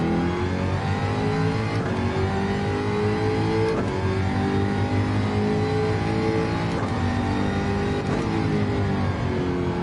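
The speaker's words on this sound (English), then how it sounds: "the Jaguar definitely feels good here, Phil." A Jaguar race car in Gran Turismo 7 revs hard through its gears, a loud, continuous engine howl that climbs and drops with each upshift over about ten seconds.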